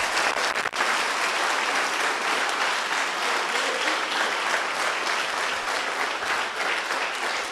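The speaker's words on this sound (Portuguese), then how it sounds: "Aplauda mais uma vez Jesus." A church congregation applauds loudly and steadily at a worship service, a dense, continuous wash of many hands clapping close by for the whole stretch, with no voices standing out.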